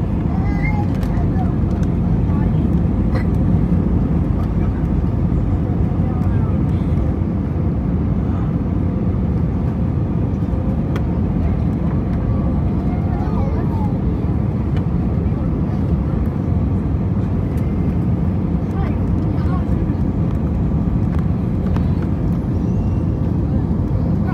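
A passenger jet lands at Manila and touches down, heard from inside the cabin as loud continuous broadband roar and rumble that runs unbroken throughout.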